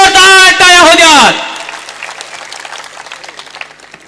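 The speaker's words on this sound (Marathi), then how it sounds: "भाऊंसाठी जोरदार टाळ्या होऊ द्या" A crowd at a political rally in Phaltan bursts into applause after a loud shouted voice, clapping near and steady, then thinning out as it continues.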